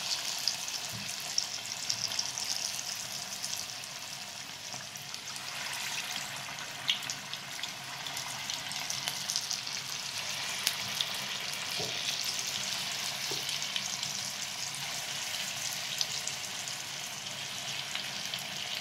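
Moong dal bhaji fritters fry in hot oil with a steady, dense sizzle that holds evenly throughout, close up with occasional faint clinks.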